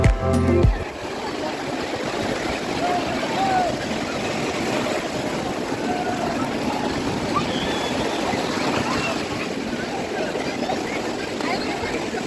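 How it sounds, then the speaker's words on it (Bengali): Sea waves wash in on Cox's Bazar beach, a steady broadband roar of surf that runs unbroken through the whole stretch, with a brief knock near the start and voices faintly in the background. "খালি ঢেউটাই আসবে।"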